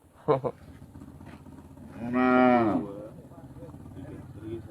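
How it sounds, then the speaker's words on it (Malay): A cow moos once, loud and close, with a long drawn-out call lasting about a second, preceded by a brief human voice and followed by quiet background murmur. "Apa lembu belakang?"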